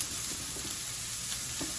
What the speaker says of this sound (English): Pan is smoking, so I'm going to start to saute